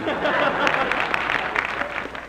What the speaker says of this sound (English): Go ahead, applaud if you want to.